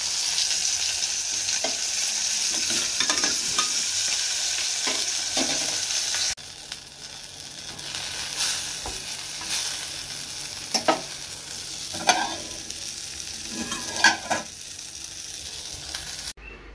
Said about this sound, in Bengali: আমার জন্য 2 পিস রুই মাছ একটু কড়া করে ভেজে রাখছি, আর তার সাথে একটু বেগুন ভাজবো।